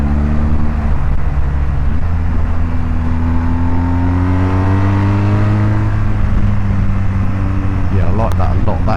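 BMW R1250GS motorcycle fitted with a Jekyll & Hyde exhaust runs close and loud with a deep, steady engine note that climbs and falls in pitch as the rider works the throttle, filling the whole stretch.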